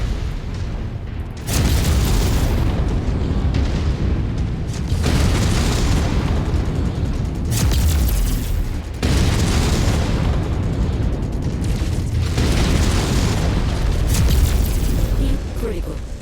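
Heavy booming explosions from mech combat in the video game Kestrel Lancers, several rumbling blasts in succession with crackling debris, loud and close.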